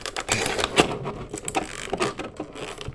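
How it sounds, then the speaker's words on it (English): Hard plastic toy packaging for wrestling action figures is pried and torn open up close, a run of irregular cracking, clicking and crinkling snaps with no talk. "Oh god, this is hard packaging."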